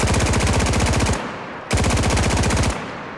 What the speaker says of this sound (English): And you can go around just gunning anything down in your path